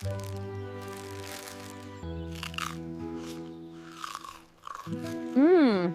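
Crunchy sandwich being bitten and chewed at an outdoor camping picnic, with a few crisp crunches over steady background music.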